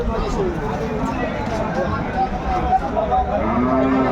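Dairy cows and calves of improved breed at the Aftabganj cattle market in Dinajpur, lowing repeatedly amid a busy, steady crowd hubbub, with people talking throughout close by.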